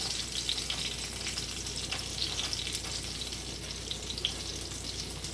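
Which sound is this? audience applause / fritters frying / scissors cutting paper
fritters frying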